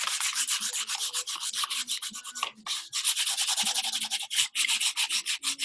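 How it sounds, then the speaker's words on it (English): Sandpaper rubbing over painted wood to give it a weathered barn-wood look, heard as quick, rhythmic rasping strokes close up, with a brief pause partway through and no talking. "we're gonna wipe off some, and we're gonna sand some."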